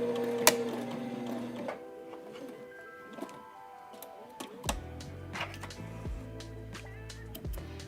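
A sewing machine runs a seam joining two fabric panels and finishes with a back stitch, giving a steady mechanical whir broken by sharp clicks and shifts in motor pitch, close and fairly quiet.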